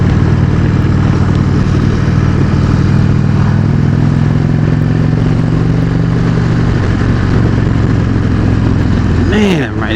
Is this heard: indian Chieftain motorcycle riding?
yes